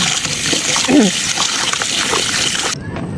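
Raw chicken rinsed under a running tap, a steady close gush of water with brief splashing as the pieces are turned, ending abruptly when the flow stops.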